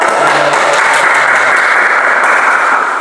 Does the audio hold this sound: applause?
yes